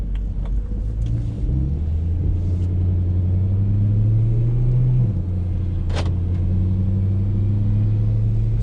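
Steady low engine drone of a 2011 BMW E90 M3 with DCT gearbox cruising in regular drive mode, a smooth rising tone that dips briefly at a gear change, with one sharp click partway through.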